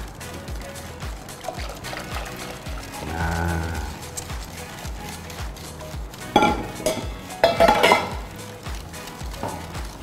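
Fresh non-dairy cream is stirred into a pudding mixture, with a liquid swirl and the clink of a utensil against a pot or bowl, then a few sharper scrapes near the end.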